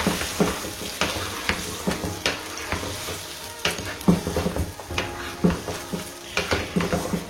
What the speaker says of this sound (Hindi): ये जो हमने पेस्ट तैयार की है दही के अंदर सब कुछ डाल के ये हम इसके अंदर डाल देंगे और इसको एक बार अच्छे तरीके से मिक्स कर देते हैं